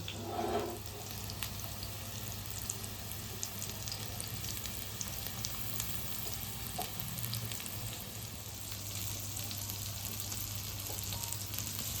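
Chicken kebabs fry gently in ghee over low heat, with a continuous soft sizzle and a low hum running steadily underneath.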